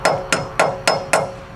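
Five sharp metallic hammer blows ring out at a steady, evenly spaced pace, each striking an engine part during engine removal and trailing off briefly before the next; close and fairly loud with no talking.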